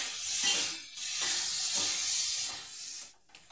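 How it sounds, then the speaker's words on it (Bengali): Caramel cooking in a pan for homemade sweet yogurt (mishti doi) after a splash of milk is added, giving a steady close bubbling sizzle with soft stirring scrapes that fades near the end. "এবার আমি ক্যারামেলটা এইভাবে তৈরি করে নেব"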